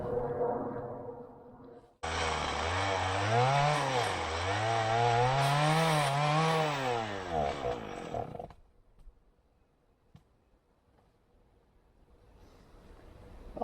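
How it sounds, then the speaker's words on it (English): A small chainsaw revs loud and close for about six seconds, its pitch rising and falling as it finishes cutting through a big log, then cuts off, leaving quiet outdoor ambience. "So I will go ahead and get my small chainsaw and finish it off."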